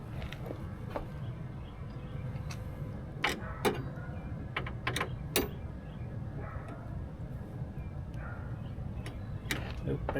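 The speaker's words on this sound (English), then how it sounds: "Now there's Phillips screws on here. 1, 2, 3, and off it comes." Screws being backed out of an interior door panel on a 2003 Dodge Caravan: a run of sharp, close clicks and ticks scattered over a steady low rumble, with small metallic taps between them.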